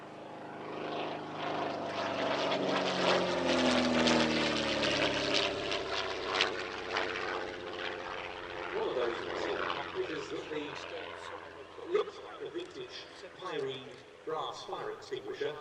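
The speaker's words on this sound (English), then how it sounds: "It depicts the personal aircraft flown by Edgar Percival, the aircraft which won the King's Cup air race twice." A replica of Edgar Percival's King's Cup-winning racing aircraft flies past at an airshow, its propeller engine droning steadily and loud at first, then fading as crowd voices and talk take over.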